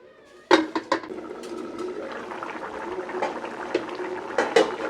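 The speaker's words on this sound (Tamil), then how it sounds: "குழம்பு நல்லா கொதிச்சிருச்சு" Chicken kulambu curry bubbling in a pot, a soft steady simmer with a few sharp clinks of a utensil against the pot near the start and later.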